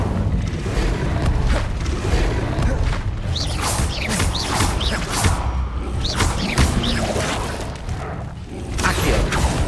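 Spell-casting effects from the video game Hogwarts Legacy with the Incendio fire spell, a dense run of whooshing bursts and booming thumps that keeps going the whole time, loud and close with no pauses.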